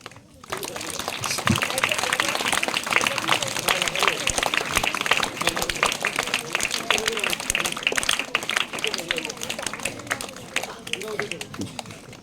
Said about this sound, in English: Not stop clapping your hands